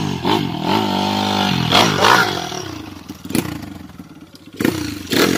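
A trail motorcycle engine revs hard on an uphill climb at Tanjakan Maung Bodas in Panjalu, Majalengka, rising and falling in loud throttle bursts with a rattling, clattering edge, close to the listener.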